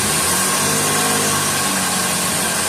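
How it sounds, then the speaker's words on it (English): A Nissan Murano runs after a remote start from its key fob, its engine a steady, close idle hum mixed with broadband whoosh and no talking. "So now the car is running."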